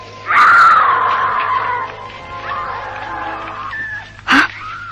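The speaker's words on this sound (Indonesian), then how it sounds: "tiba-tiba dari kejauhan terdengar teriakan seorang wanita." A woman's long, anguished scream rings out, falling into a wavering moan, then after a pause a short sharp second cry, with no talk over it.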